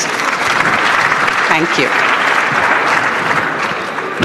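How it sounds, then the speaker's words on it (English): Audience applause at the India Startup Festival 2023, a steady, dense clapping that fills the whole stretch at full volume, with a brief spoken thank-you from the stage partway through. "a big round of applause to all of them, please"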